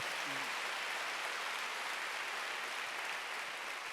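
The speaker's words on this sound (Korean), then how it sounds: "박수 세게 쳐요." Church congregation clapping loudly at a Wednesday worship service, a dense, steady wash of many hands that fills the whole clip at an even level, with a brief voice near the start.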